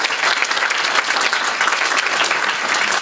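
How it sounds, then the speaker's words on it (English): An audience at a civic announcement event applauds, giving dense, loud, sustained clapping from many hands with no talk over it. "Let's give Julia a round of applause as well"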